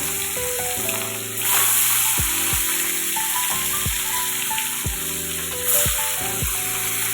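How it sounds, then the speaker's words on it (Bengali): Pieces of bhola fish are fried one by one in hot oil in a wok. A continuous soft sizzle sits under background music with a stepping melody. "কিন্তু এখন আমি একটা একটা করে মাছগুলোকে দিয়ে দিচ্ছি।"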